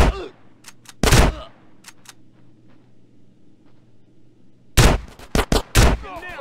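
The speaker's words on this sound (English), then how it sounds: "Get some suppressing fire in there!" Gunfire in a GTA San Andreas street shootout mission: sharp loud shots in short bursts, one early blast then a rapid cluster of several shots near the end, with a low hum between.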